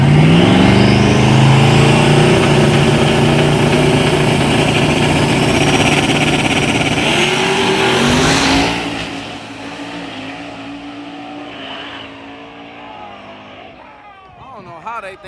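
Small-tire drag racing cars at a dragstrip roaring off the line, loud sustained engine noise at full throttle that fades away after about eight seconds into quieter background engine hum.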